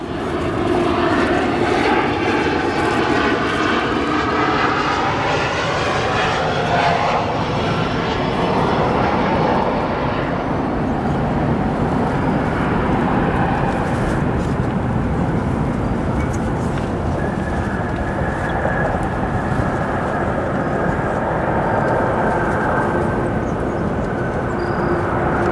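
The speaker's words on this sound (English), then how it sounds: "Strong reverse thrust on there too." A United 737 MAX lands at O'Hare. A loud, sustained jet roar swells with strong reverse thrust, its pitch sweeping downward as the aircraft slows, and it stays loud throughout against steady wind and background noise.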